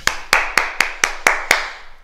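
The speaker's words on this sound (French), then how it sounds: "On salue et on s'applaudit, les amis." A group claps in unison after a karate exercise, seven sharp, close hand claps falling in a steady, brisk rhythm with no voices over them.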